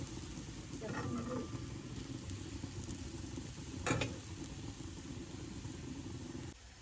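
A gram flour pudla pancake sizzles in oil on a pan, a faint, steady frying hiss with a single brief clink midway before the sound drops away at the end.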